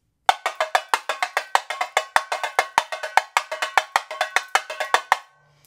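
Tamborim struck in the carreteiro 3x1 pattern, a sharp bright metallic tapping repeating in steady fast groups with clear accents, close and alone, stopping after about five seconds.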